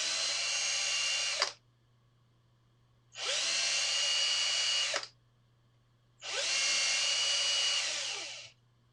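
Power drill boring holes in pneumatic switches: three separate high-pitched whining bursts of about two seconds each, with short quiet gaps and a low steady hum between them, heard close up with no talking.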